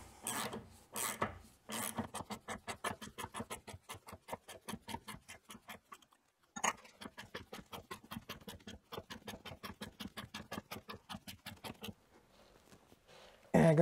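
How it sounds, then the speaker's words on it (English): A ratchet clicks rapidly as it runs in a brake disc retaining screw on a Renault Scenic 3 rear brake, close, sharp repeated ticks in bursts with brief pauses between strokes. "Run it in snug with a ratchet."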